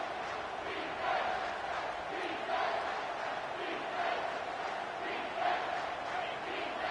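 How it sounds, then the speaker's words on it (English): A stadium crowd at an American football game roars steadily in a loud, sustained wash of cheering and chanting that swells in waves, with no clear voice standing out. "This crowd knows when to bring it."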